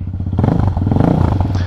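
Honda Hawk 250 motorcycle with an aftermarket exhaust, loud and close, idling with a rapid rough burble before the revs briefly rise, the exhaust note harsh and popping.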